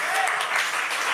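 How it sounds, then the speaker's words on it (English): A lecture audience claps briefly and moderately for Ugandan independence, a short burst of scattered applause in a hall. "We can clap for that."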